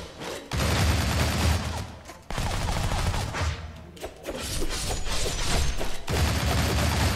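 Uzi fire in the video game Shank rattles out in rapid loud bursts, broken by brief pauses, with mechanical clatter between volleys.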